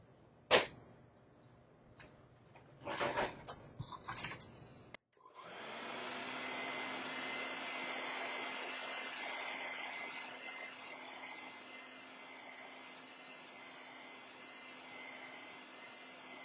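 A hair dryer blows steadily on wet sand paint on a card, a sustained airy whoosh with a constant hum that starts abruptly after a few clicks and handling knocks and runs to the end.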